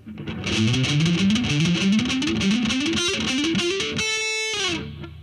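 Heavy distorted electric guitar plays a fast palm-muted metal lick, chugging notes climbing in a rising pattern before ringing out on a sustained held note that fades at the end; loud and close, no talking.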